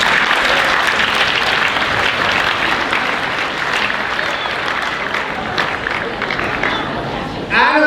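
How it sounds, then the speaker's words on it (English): Students at a high school recognition assembly clap loudly in a dense, sustained burst that gradually eases, with crowd murmur mixed in and a sharp sound at the very end. "Give yourself a round of applause."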